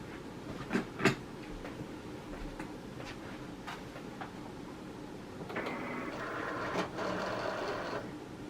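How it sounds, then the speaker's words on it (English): A Cricut cutting machine takes in its cutting mat: a few light clicks and taps, then a steady motorised whir with a clunk partway through, close and moderately quiet, with no talking. "Load the fine point blade in B, load and press the mat."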